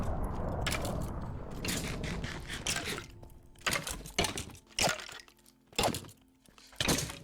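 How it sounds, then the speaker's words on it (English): Minecraft boss detonating markers set in the ground, heard as a series of sharp cracking thunks in a video game, several separate hits spaced across the clip after a denser noisy opening. "Then another when he can detonate them."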